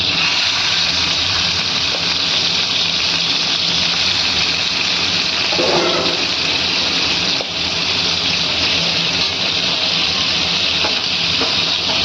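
Peeled, washed prawns frying in a hot pan give a steady, loud, broadband sizzle that holds for the whole stretch with no voices over it.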